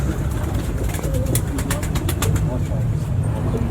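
Pigeons cooing at a pigeon fancier's loft in Rawalpindi, soft repeated coos beneath a continuous engine-like hum, with a few sharp clicks or flutters in the middle.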